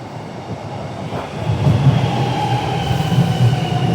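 A Melbourne metro train on the Mernda line rolls into a station with a low rumble that swells, steel wheels squealing faintly as it slows; no voices.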